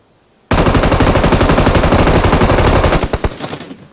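Rapid automatic gunfire in a video game rattles out as one loud, close, sustained burst of about three seconds, then trails off into a few scattered shots.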